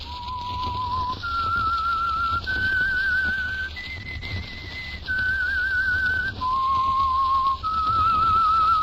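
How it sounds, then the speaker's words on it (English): A clear whistled melody of sustained, slightly wavering notes stepping up and down, alone over a faint steady hum: the opening whistle of the old radio drama The Whistler. "That whistle is your signal for the Signal Oil Program"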